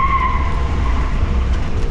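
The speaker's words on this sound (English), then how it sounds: "We'll do one more burnout" A Ford Crown Victoria race car doing a burnout on a closed road, its tires squealing in a steady high-pitched screech over a loud, rumbling engine for the whole stretch.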